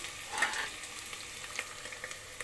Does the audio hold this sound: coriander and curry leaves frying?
yes